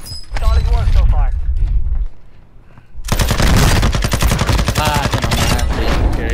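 Loud, rapid automatic gunfire in a first-person shooter game; a burst with mechanical clatter, a brief lull, then a sustained, dense stream of shots, with faint radio-style talk mixed in early.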